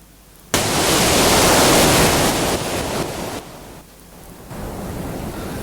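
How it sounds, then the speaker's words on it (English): Live sea waves from the Normandy coast relayed through loudspeakers on the facades of the Arc de Triomphe, a loud broad wash of surf that surges in abruptly, then ebbs and swells again, with no voices. "the live sound of the sea from Normandy"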